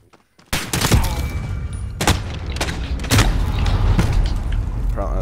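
Pistol gunfire in a Modern Warfare pistols-only 1v1v1 match: several loud, close, widely spaced shots with booming tails over steady game noise.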